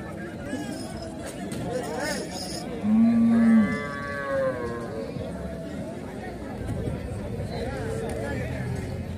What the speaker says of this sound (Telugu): ఎద్దులు, ఎనుగులు, ఆవులు అమ్ముతూ ఉంటారు.